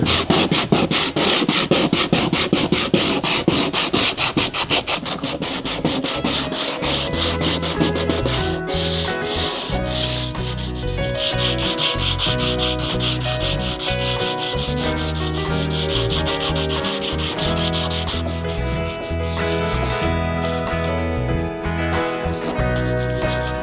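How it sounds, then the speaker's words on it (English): Sandpaper rubs steadily back and forth along the grain of a wooden surface during a beginner DIY home project, a continuous close, loud scraping with a rhythmic stroke pattern and no talking. "And after you've sanded everything a bit down"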